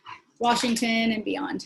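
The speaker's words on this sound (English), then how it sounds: "that's my dog" A dog gives a short whimpering, yelping cry close by, with someone talking in the same moment.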